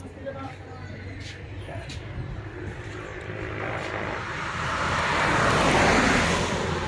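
A truck speeds past on a road at Sitio Pulo, Barangay Hoson, Digdig. Its rushing engine and road noise swell steadily louder toward the end.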